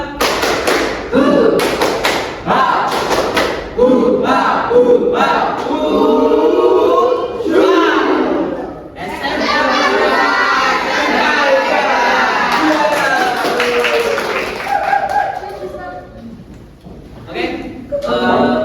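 Vocational high school students in a classroom perform a rhythmic clapping chant, sharp claps and thumps alternating with chanted voices in bursts, with a pause midway before the clapping resumes.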